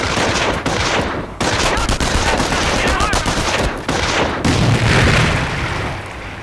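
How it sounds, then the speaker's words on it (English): Dense, loud gunfire and explosions from the Company of Heroes video game: a grenade blast and MG-42 machine gun bursts in rapid, continuous volleys, with heavy booms rolling through. "Let's throw a grenade to destroy the machine gun team."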